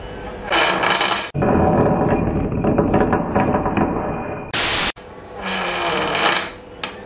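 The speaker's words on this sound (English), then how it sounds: "It's running at low RPMs. This motor seems kind of blown too." A small electric motor on a cheap $15 ESC, seemingly damaged, runs at low RPM, giving a loud close rough buzzing drone broken by sharp cut-offs, a brief high whine and rattling clicks, with no voices.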